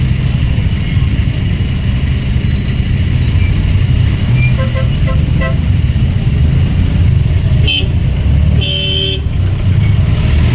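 Congested road traffic in the Philippines, with a steady, loud rumble of idling and creeping vehicles and a few short car horn toots near the end.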